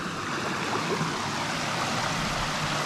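A waterfall and mountain stream in the Carpathians rush steadily and close by, a dense unbroken roar of flowing water with no voices.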